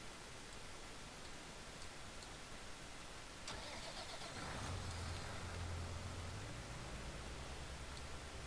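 A truck engine cranks and starts in Farming Simulator 22, a faint click followed by a low engine catching and settling into a steady idle beneath a broad background hiss.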